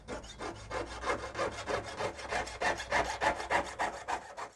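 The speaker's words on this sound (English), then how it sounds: "we rub down the top, which cleans up the surface" The top of a silver jewellery band is rubbed down with a file in steady, rhythmic rasping strokes, about four per second, close and continuous.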